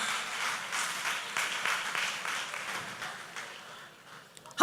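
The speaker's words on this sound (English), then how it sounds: "Round of applause." Scattered applause from a modest audience at a leadership and mentoring event, uneven and fading to near silence, then cut off by a sudden loud burst at the end.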